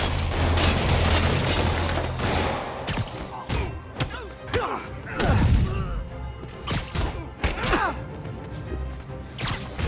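Chaotic combat in Marvel's Spider-Man with criminals firing guns: scattered sharp shots mixed with thuds, impacts and crashes, under brief shouts and effort sounds.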